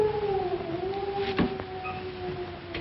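Eerie drawn-out howl in a 1941 horror-comedy film, a steady wavering tone rising and falling over about three seconds with a fainter second voice layered beneath, set against a dark, quiet night atmosphere.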